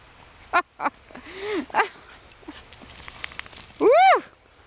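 A dog playing in snow gives short yelps and whimpering barks, with a rising and falling whine near the end, close by amid scattered human voices.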